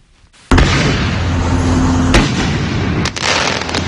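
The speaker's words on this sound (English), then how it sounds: "As illegal fireworks soar through the sky well before the 4th of July, Kern County residents like Micah Martin are" Illegal fireworks ahead of the 4th of July in Kern County erupt suddenly into a loud, sustained roar of crackling bursts and booms, with a few sharper hits, and no talking.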